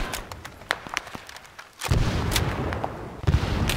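Gunfire in Arma 3 with the SOG Prairie Fire Vietnam War setting, sharp rifle shots and distant thumping booms scattered irregularly, then a heavier sustained barrage of overlapping shots and explosions.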